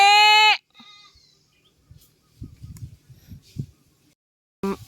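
Goats bleat while being herded in the countryside: one loud, close bleat opens, faint rustling and soft sounds follow, and another bleat starts at the very end.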